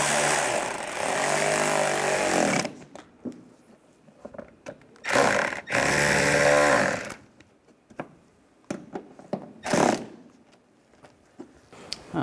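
A power tool drives screws into the A/C condenser of a 2011–2015 Chevy Cruze in several loud, sharp bursts, separated by quiet gaps and small clicks.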